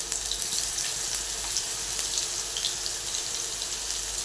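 Garlic and ginger sauté in a pan over medium heat with a steady, close sizzle and fine crackling throughout.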